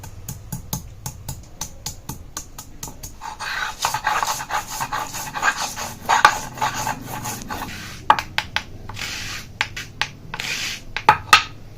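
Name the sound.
garlic and ginger ground on a grinding stone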